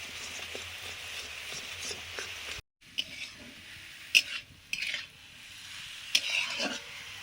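Kachori filling stirred and fried dry in a kadai: a steady soft sizzle with intermittent scraping stirs and light metallic clinks, close and fairly quiet, with a brief dropout partway through.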